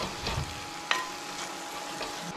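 Sliced onions and green chillies stirred while frying in a pan, giving a steady close sizzle with one brief clink of the utensil partway through.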